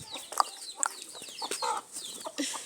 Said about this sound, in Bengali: আর এটিও আমাদের একটি মুরগি।